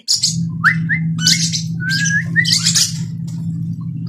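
Shrill squawks and chirps from lovebirds, several quick calls in bursts over a steady low hum, close and fairly loud.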